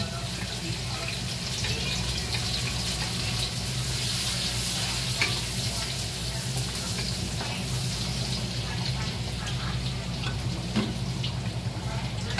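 Garlic fries in a pan, giving a steady close sizzle that runs unbroken for about twelve seconds, with light scrapes of stirring and faint clinks on top and no talk.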